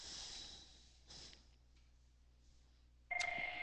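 A telephone rings during a meeting, a bright electronic tone that bursts in loudly near the end after quiet, faint room noise.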